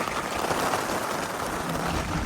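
Steady rain falling outdoors during a walk, a dense, even hiss of drops on the ground that stays constant throughout with no voices.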